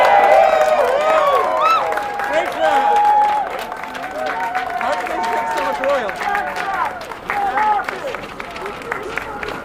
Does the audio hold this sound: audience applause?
yes